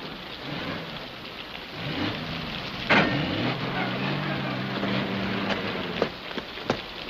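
Steady rain pours outdoors in wartime muddy terrain, with rumbling thunder and a few sharp cracks, a constant wash of noise at moderate loudness.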